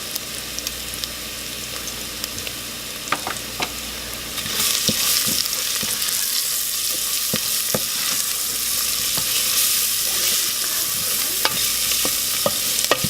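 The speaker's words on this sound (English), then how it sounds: "So my onions are almost fully caramelized." Onions caramelizing in a pan for Arabic stuffed potatoes make a steady, fairly loud frying sizzle that grows denser halfway through, punctuated by scattered clicks and scrapes of stirring.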